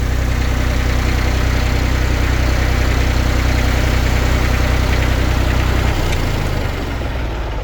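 A Massey Ferguson 35 diesel tractor engine runs close and loud with a steady, knocking idle, its low throb holding evenly before shifting and easing off near the end.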